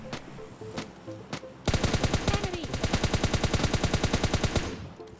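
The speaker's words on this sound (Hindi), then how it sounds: "मैंने देखा कि एक बॉट फायरिंग कर रहा था" Automatic gunfire from a bot in PUBG Mobile Lite erupts in a long rapid burst of evenly spaced shots, loud and close, preceded by a few scattered single shots.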